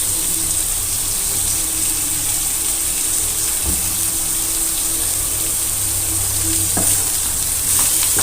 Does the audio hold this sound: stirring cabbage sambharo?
yes